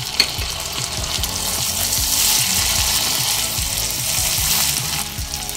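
Ginger, garlic and chopped tomato frying in a pan with onion, a loud steady sizzle close by, broken by rhythmic scraping stirs, no one speaking.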